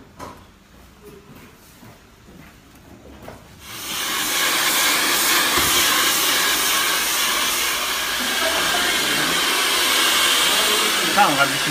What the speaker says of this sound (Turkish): Bir fön çektireceğim ama.